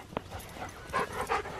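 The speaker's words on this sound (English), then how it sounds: "It's a nice dog." A dog at a prairie dog park makes a few soft, short whimpering and panting sounds up close, in brief bursts over faint outdoor background noise.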